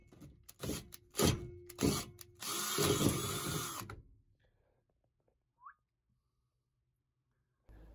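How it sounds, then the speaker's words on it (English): A power drill bores through the floor of a Ford Transit Custom van, in several short bursts followed by a longer steady whine. Close and fairly loud, it then stops, leaving near silence. "So I'll drill through that one"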